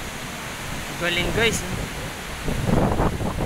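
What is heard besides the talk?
strong wind on a mountain trail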